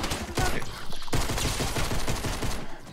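Shotgun fire in Fortnite, a rapid, close flurry of overlapping blasts with sharp repeated bursts throughout and voices mixed in.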